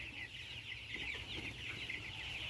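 Broiler chickens on a poultry farm bedded with rice husk, a faint, continuous murmur of clucking from many birds at a distance, with a steady low background hum.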